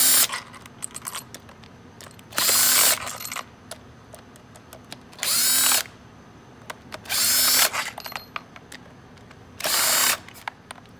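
A 1/4-inch Matco impact wrench removes ignition coils on a 2012 Mercedes C250, four loud, close bursts of rapid hammering whir, each about half a second to a second long, with metallic clinks and handling noise between.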